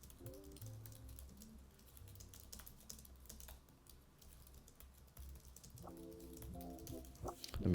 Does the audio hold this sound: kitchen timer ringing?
no